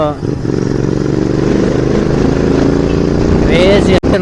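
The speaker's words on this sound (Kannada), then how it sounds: "ಈ ರೋಡಲ್ಲಿ ಓಡಿಸೋದೇ ಮಜಾ ಗುರು ಗೇರ್ ಡೌನ್ ಮಾಡಿಕೊಂಡು" A Royal Enfield GT650 motorcycle riding along a road, its engine roaring loud and steady close up with shifting pitch as it downshifts, ending in a brief gap.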